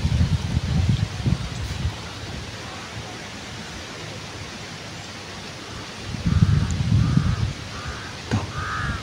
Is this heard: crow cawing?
yes